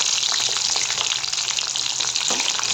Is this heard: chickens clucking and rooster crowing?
no